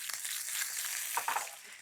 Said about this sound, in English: Good sizzle.